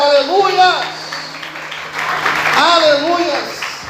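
Church congregation applauding during a worship service, a steady wash of clapping spread across the room, with a preacher's voice speaking over it and sustained organ or keyboard tones underneath.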